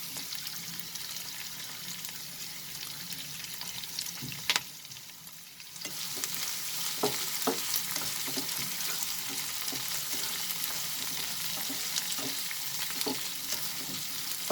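Dried red chilies broken in half and onions sauté in a pan for a chicken and broccoli stir fry, giving a steady close sizzle with scattered sharp clicks of stirring throughout, dipping briefly quieter midway before resuming.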